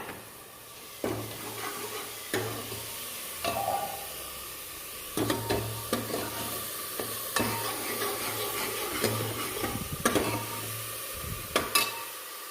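Onion being fried and stirred in a pan for aloo matar, a low steady sizzle broken by repeated scraping strokes of a spoon at irregular intervals.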